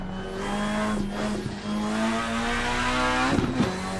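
A BMW in the Assetto Corsa racing game gives a loud, close, sustained engine drone with small shifts in pitch. Brief tire squeals and bumps break in near the start and again toward the end.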